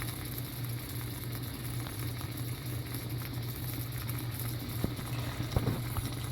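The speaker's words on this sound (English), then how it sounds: "as soon as you plug it in, you see bubbles right away" Water bubbles steadily in an immersion electrode boiler, a continuous soft boiling fizz over a low electrical hum, with a few faint pops.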